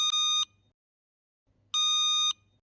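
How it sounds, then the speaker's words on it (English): Two loud, high electronic beeps from a HummBox wattmeter being set up, the first short and the second longer, separated by about a second of silence. "press and hold the button until you hear the second beep"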